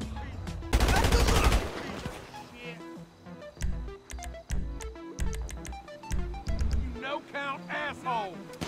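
Gunfire in GTA Online survival mode, where waves of enemies are shot until the player dies: a loud rapid burst up front, then scattered single shots and short volleys, with a voice talking in between.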